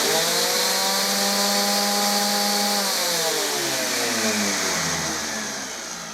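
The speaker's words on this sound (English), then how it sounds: "when you turn the sander on, the vac kicks in as well" A random orbit sander running while a Nilfisk Aero 26-21 workshop vac kicks in with it, a loud steady motor whine that shifts downward in pitch partway through and eases off at the end, with no talk.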